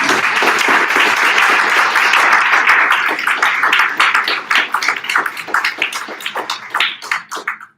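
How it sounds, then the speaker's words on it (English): Applause at a city council debate, dense at first and thinning after about four seconds into scattered individual claps that taper off near the end. "Okay, round of applause."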